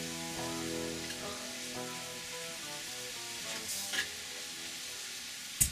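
Taco meat frying in a greasy pan, a steady close sizzle with stirring scrapes throughout, alone without talk.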